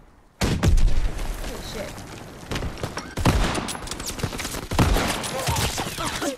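Gunfire in the World War II shooter Call of Duty: WWII, with sharp close shots and bursts in clusters over battle noise while a man swears briefly.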